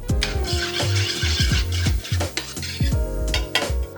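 Garlic and shallot sautéing in extra virgin olive oil in a pan, with steady sizzling under repeated stirring scrapes and metallic clinks of a utensil against the pan, close and fairly loud.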